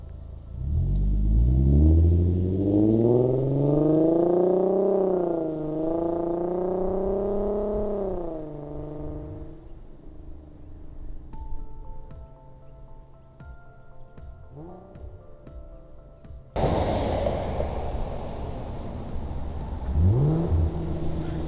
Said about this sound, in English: see how the car sounds outside the cabin